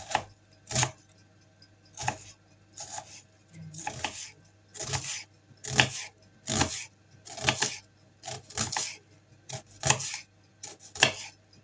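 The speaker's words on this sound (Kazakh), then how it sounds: "Салатқа осылай жуамызды тураймыз." Onion being chopped for salad on a cutting board, about a dozen crisp knife strokes in uneven bursts, close and clear with quiet pauses between them.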